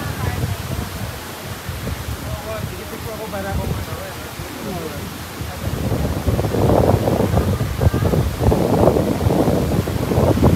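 Strong wind and high sea waves at a beach near Melbourne, Australia, with heavy continuous wind buffeting the microphone and a deep rolling roar of surf that grows louder midway, and a voice speaking over it at times.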